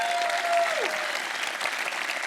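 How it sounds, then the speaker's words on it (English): A warm round of audience applause for first-round judges at a hackathon closing ceremony, dense steady clapping from a crowd with a brief tonal sweep at the start. "can we get a warm round of applause for our first round judges"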